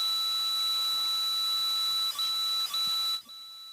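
A handheld meter sounds a continuous high electronic tone beside a headstone in a cemetery, steady and unbroken with two brief dips, then it cuts out abruptly near the end; no one speaks.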